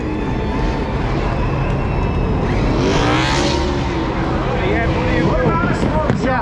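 A NASCAR race car doing a burnout at the start-finish line at Rockingham, engine roaring at high revs nearby, tires screeching over a loud crowd, with a commentator talking over the noise.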